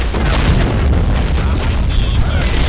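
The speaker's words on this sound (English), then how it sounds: "Looks like a field cannon opened up on me." Field cannon firing in a tactical war video game, loud deep booms and rumbling blasts filling the whole moment, with a voice talking underneath.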